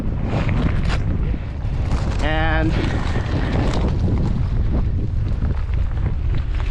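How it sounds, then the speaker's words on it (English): Strong wind buffets the microphone with a constant roar beside a railway access road, while people talk over it and a short tonal beep sounds briefly. "Wow, it's windy."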